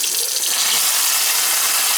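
Loud, close rush of water from a kitchen tap pouring into a sink drain that is backing up, a constant splashing hiss with no voices over it.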